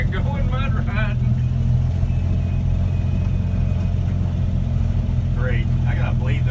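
A 1964 Dodge D100 pickup truck drives along with a steady, loud engine rumble throughout, while people talk briefly at the start and end.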